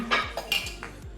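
Ceramic cups being rearranged and set down in a home kitchen, giving a few bright clinks and knocks close by over about a second, with no talking.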